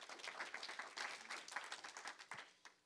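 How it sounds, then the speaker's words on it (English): An audience at a tech conference event gives a round of applause, a very quiet and distant patter of individual claps with uneven, irregular peaks. "So please, round of applause for them."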